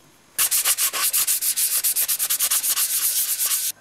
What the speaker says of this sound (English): After a bit of sanding down